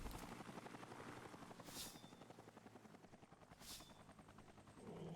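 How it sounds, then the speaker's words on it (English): A helicopter in a space sci-fi video game flies with a rapid, steady rotor chop that stays fairly faint and constant, with a couple of brief whooshing bursts along the way and no talk. "I really love those helicopters."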